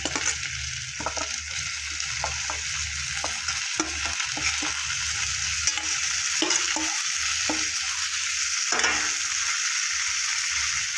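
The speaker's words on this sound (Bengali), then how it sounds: "এবার দিয়ে দেবো ব্রোকলি।" Broccoli and fried potatoes are tossed into a pan of spiced masala for a broccoli dish, with a steady sizzle of frying and repeated scraping stirs throughout, close and fairly loud.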